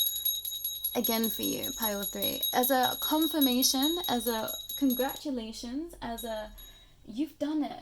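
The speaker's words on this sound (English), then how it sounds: "I'm being told to ring this bell" A small bell rings with bright, lingering high tones beneath steady talking, then fades away as the speech continues.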